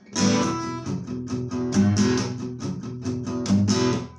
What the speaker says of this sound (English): I can play my guitar.